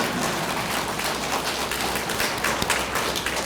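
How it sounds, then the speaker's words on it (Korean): Steady crowd applause from a church congregation at a Catholic talk, dense and even throughout, with scattered louder claps near the front. "박수 쳐 크게."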